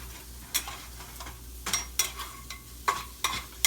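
Chorizo fries in a dry pan with no oil, a soft crackle punctuated by several sharp scraping and tapping hits as it is stirred and broken up, close and uneven, without voices.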